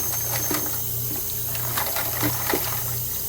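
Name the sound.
hot tap water filling a pot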